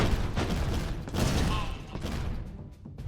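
Cannons firing in the Airborne Empire game, a dense cluster of booming, rumbling blasts with mechanical creaks, loud and close, settling into lower rumble toward the end; no voices over it.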